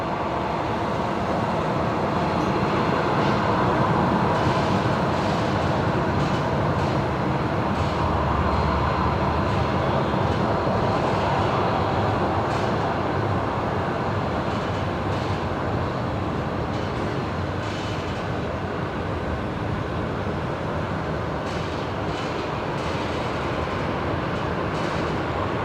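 Qantas 58 airliner arriving from Port Moresby at Brisbane Airport, a loud, steady broadband jet roar that holds for the whole stretch with no talk over it.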